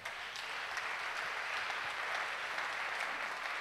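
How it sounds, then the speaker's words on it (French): A church congregation at a prayer gathering applauds the Lord, a dense and sustained wash of clapping from many hands that fills the room at an even level throughout. "Nous acclamons le Seigneur."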